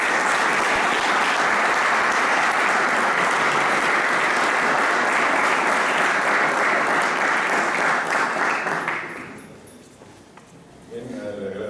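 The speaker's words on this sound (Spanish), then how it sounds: "recibimos al doctor con un caluroso aplauso" A lecture audience applauds to welcome a speaker, with dense sustained clapping for about nine seconds that then fades into quiet room noise.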